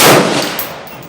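A single loud rifle gunshot at a shooting range, fired from an AR-15 or Tavor SAR bullpup, with a sharp close blast followed by a fading echoing tail.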